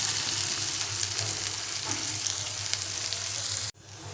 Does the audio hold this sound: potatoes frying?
yes